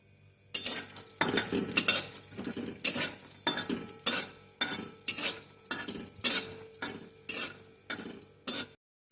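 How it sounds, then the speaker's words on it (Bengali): Cashew pieces frying in hot ghee in a pan for a semolina halwa, stirred with a utensil in steady rhythmic scraping strokes, about a dozen close, clattering passes over a faint sizzle, with no talking. "ঘিটা একটু গরম হলে এর ভিতরে আমি কয়েকটা কাজু বাদামের টুকরো দিয়ে একটু লাল লাল করে ভেজে নেব"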